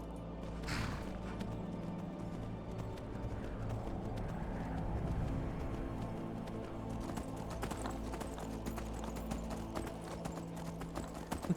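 Horse hooves clip-clopping at a steady rhythmic pace in Skyrim, set against a low droning game background, moderately close and without talk.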